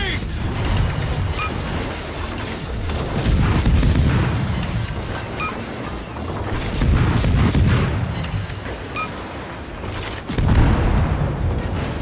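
Naval artillery in a World of Warships clan battle, with heavy deep booms rolling in roughly every three seconds over a constant rumble, while in-game voice callouts are heard alongside.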